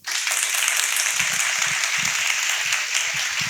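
A studio audience applauding in a steady wash of clapping that starts abruptly and holds at an even level to the end.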